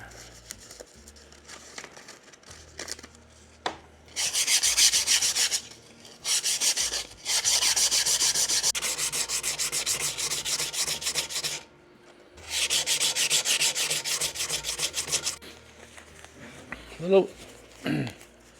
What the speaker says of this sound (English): Just needs a light sanding.